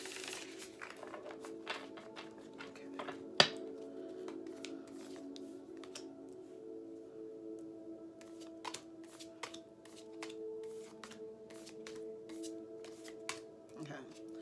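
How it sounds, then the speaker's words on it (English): A tarot deck is riffled and shuffled in quick crisp bursts, close by, with a few soft taps and a quiet steady hum underneath. "We're gonna shuffle up the cards a couple more times."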